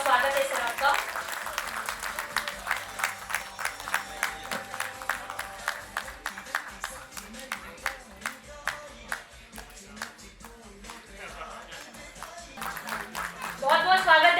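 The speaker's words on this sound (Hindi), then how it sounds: "एक बार जोरदार तालियां।" An audience at an honours ceremony claps steadily in dense, crisp applause that runs throughout and swells toward the end, with speech and background music mixed underneath.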